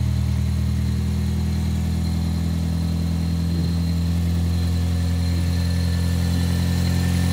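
A 1992 Toyota Corolla DX wagon's 16-valve EFI engine idles steadily after being brought back to life, a continuous low rumble with a faint, uneven flutter, close and loud, with no voices.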